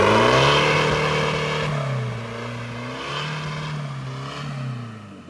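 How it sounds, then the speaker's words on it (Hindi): A Mahindra SUV with a straight-pipe exhaust, EGR deleted and catalytic converter removed, revs loudly up close, the engine note rising and falling through several throttle blips with a deep, raspy drone and no talk over it. "मैं एग्जॉस्ट सुनना चाहूंगा, मेरे को मेरी इच्छा पूरी करो, एग्जॉस्ट सुनाओ।"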